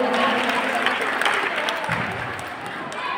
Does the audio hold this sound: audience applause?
yes